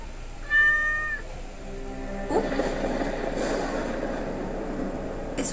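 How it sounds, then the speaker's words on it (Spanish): A cat gives one clear, fairly close meow, followed by a quieter second cry, over a steady low rumble of background noise with no talk. "Es un gato a la verga."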